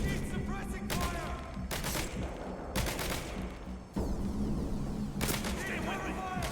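Video game gunfire in a rapid, sustained fusillade, with dense bursts of shots and sharp cracks stacking up continuously, loud and close, while a voice talks over it.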